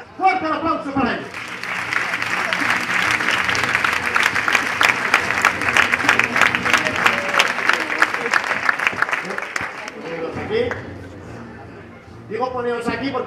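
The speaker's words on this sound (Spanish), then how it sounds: "¡Fuerte el aplauso para ellos!" A theatre audience at a mentalism show in Spain applauds loudly for people called up on stage. The applause holds strong for about ten seconds and then fades, with a voice speaking at the start and end.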